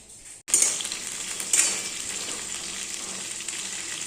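Cauliflower frying in a pan, a steady bright sizzle that starts abruptly after a brief quiet moment, swells once with a fresh burst of spitting, then settles into an even crackle.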